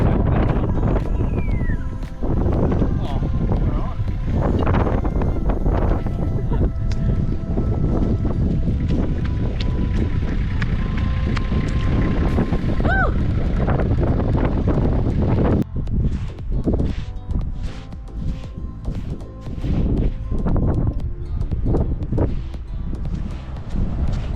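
Constant wind rushes and thumps against the microphone, loud and unbroken, with brief quieter dips later on.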